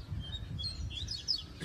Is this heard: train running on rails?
no